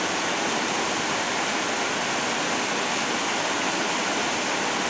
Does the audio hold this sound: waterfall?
yes